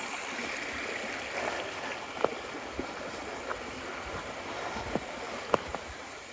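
A high-running creek along the Appalachian Trail gives a steady, even rushing wash, fairly faint and a little distant, with a few small knocks and clicks over it.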